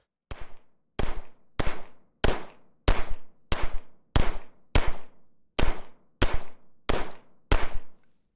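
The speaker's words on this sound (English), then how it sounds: "first 17 rounds after zeroing, the Glock did work" A Glock Gen 6 pistol fires at a range in twelve sharp, loud, evenly spaced shots about half a second apart, each one followed by a brief ringing decay, with no talk.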